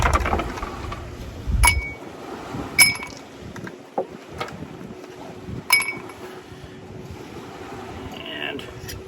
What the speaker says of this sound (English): Some ice in the glass.